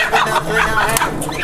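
Chickens cluck and squawk in short bursts under overlapping voices at a crowded poultry auction in Lowell.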